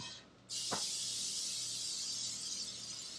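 Cooking spray hisses out of a can in one long, steady burst as it coats a baking pan. The burst starts abruptly and carries on for about three seconds at close range.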